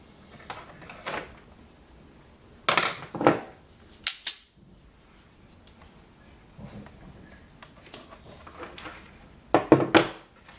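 Wire being cut to length for alligator clip leads, several sharp snipping clicks in small bursts spread across a quiet workspace, with soft handling noises between cuts.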